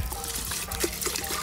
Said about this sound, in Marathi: आता बिस्लेरीच्या पाण्याने एक ग्लास वॉश करणार आहे